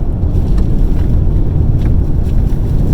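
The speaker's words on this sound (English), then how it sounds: "It's bloody windy today." Steady, roaring wind buffets the microphone in Iceland in March, a continuous low rumble, loud and unbroken throughout, with no voices.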